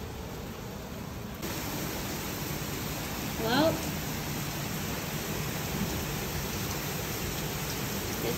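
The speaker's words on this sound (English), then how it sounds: "It is pouring." Heavy rain pours down steadily in Chicago, a dense continuous hiss that fills the whole stretch, with a brief spoken word near the start.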